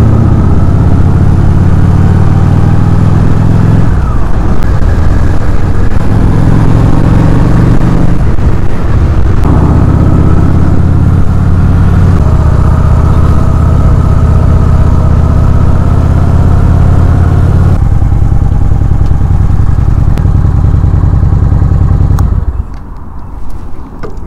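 Honda Shadow RS motorcycle from 2010 being ridden, a loud continuous low engine drone with shifting pitch and wind rush, fading near the end.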